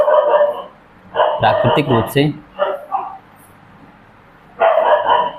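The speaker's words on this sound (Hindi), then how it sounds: "मेरे यहाँ कुत्ते बहुत ज़्यादा हैं, मेरे गांव में" Village dogs barking in short, loud bursts at several points, with someone talking over and between the barks.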